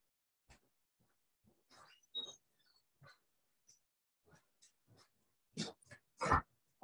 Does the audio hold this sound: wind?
no